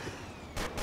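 Gunfire in the block-building shooter Ace of Spades: two short, sharp bursts of shots crack in quick succession near the end of a brief moment of game noise.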